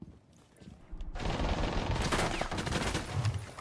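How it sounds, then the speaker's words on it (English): Automatic gunfire traded between players in a 4v4 Modern Warfare Remastered competitive match, dense overlapping rapid shots building up after a quieter opening second and continuing steadily to the end. "We're seeing a bit of gunfire being traded here."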